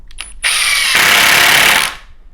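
A Milwaukee Gen 2 impact driver in mode 2 drives a screw into wood, a short, very loud, harsh hammering rattle lasting about a second and a half before cutting off, close by with no talk.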